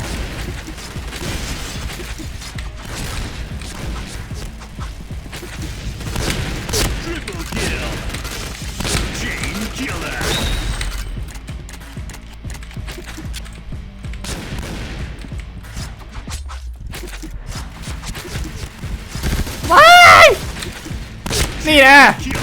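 Rapid gunfire from the video game Point Blank, a near-constant stream of automatic shots and mechanical clicks with louder bursts near the end, under someone talking throughout.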